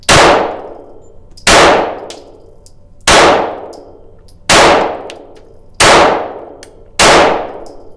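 Spent .22 casings ejected from a Taurus TX22 pistol clang sharply against a nearby camera, six bright metallic hits at roughly even intervals, each ringing briefly and close, with no talking.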